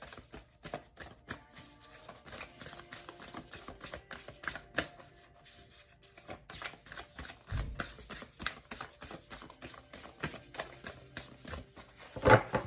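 A deck of oracle cards is shuffled by hand, giving rapid, uneven bursts of papery riffling and clicks up close for over twelve seconds, without speech.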